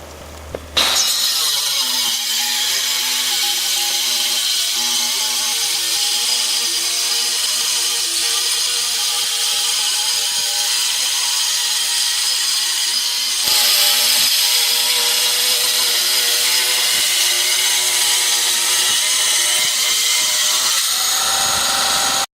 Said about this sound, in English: So this track is designed for the alpha saw base, and it's really useful